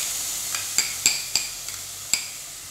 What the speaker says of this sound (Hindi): ऑयल गर्म हो गया है, इसमें हम अपना जिंजर गार्लिक डाल देंगे